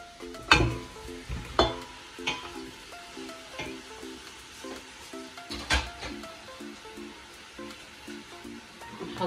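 Meat and onions frying in a pot as the base for Algerian harira from Tlemcen, a soft steady sizzle broken by a few sharp clinks and stirring knocks, close and alone.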